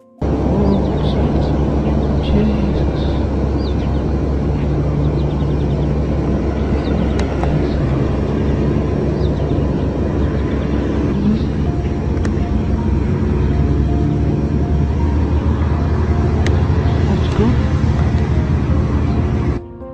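A plane passes over a town as a loud, continuous broadband roar holds steady for the whole span, with faint voices underneath.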